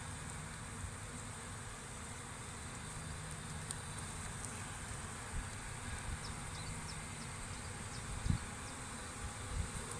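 Honeybees humming steadily at an open, calm spring hive with brood frames exposed, a dense continuous buzz filling the scene with a few faint clicks and knocks.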